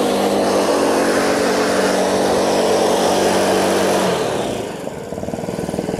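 PC450 self-propelled poo picking machine running close by, its engine and suction fan giving a loud, steady drone that drops slightly near the end and then continues.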